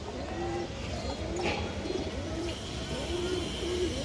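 A black-necked fancy pigeon coos softly and repeatedly nearby, about half a dozen rolling coos in a loose rhythm over faint background noise.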